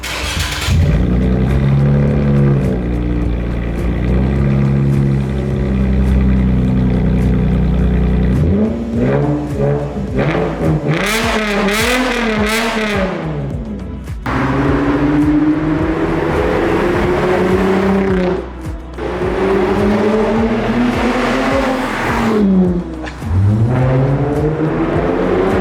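Lexus IS250 V6 with a custom welded exhaust starts and idles loudly, then revs repeatedly in rising and falling sweeps, a deep close-up engine roar with brief dips between blips and no talking.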